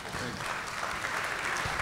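Audience applause at a leadership symposium on intra-African trade, a dense, steady wash of many hands clapping at close-to-moderate range, sustained evenly without pauses.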